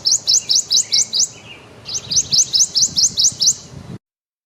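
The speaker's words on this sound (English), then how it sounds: "The song of the Prothonotary warbler is a loud tweet, tweet, tweet that usually contains somewhere between 4 and 14 individual tweets" Prothonotary warbler song: two loud, close bursts of bright, evenly spaced sharp tweets, seven or eight notes each, separated by a brief pause, with no other voices.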